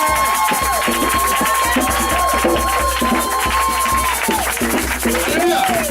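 A church congregation at a Pentecost service cheers and acclaims Jesus, a loud continuous crowd roar of voices with shouts rising above it throughout.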